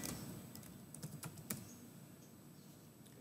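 Quick, irregular keystrokes on a computer keyboard while entering a memo in accounting software, close and fairly quiet in a calm room, with no talking.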